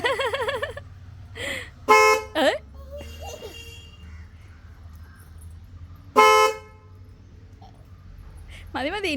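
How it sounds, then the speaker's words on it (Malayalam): An auto rickshaw horn honks in two short, loud bursts separated by a pause, close by, with people talking in between and traffic rumbling underneath. "ഒരു ഹോൺ അടിച്ചേ."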